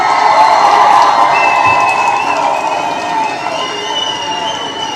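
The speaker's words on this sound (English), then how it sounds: "let's give Hog Boss a round of applause." Crowd applause and cheering from a live audience at a Trump-related gathering, sustained and fairly loud, with scattered shouts over the clapping before it gradually eases.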